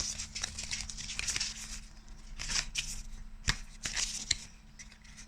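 A brand-new, stiff Kali oracle card deck being shuffled by hand, close crisp riffling flutters in uneven bursts with short pauses, quiet with no talk.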